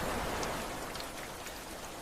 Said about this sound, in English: Rain rolled softly down the windows.